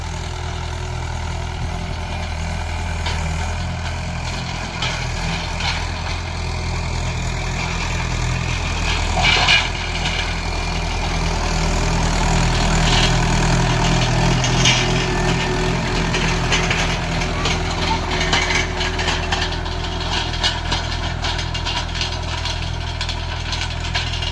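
A Mahindra 575 tractor engine runs steadily and loudly throughout, with a deep rumbling drone and occasional rises as it races, plus rattling and clatter.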